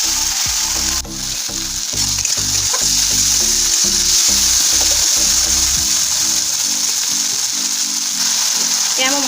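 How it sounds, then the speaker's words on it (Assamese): Spice paste and tomato sauce fry in a hot pan with a steady, loud sizzle, joined by rhythmic scraping strokes of stirring through the first half. "আৰু মই এইখিনি অলপ সময় ভাজি ল'ম"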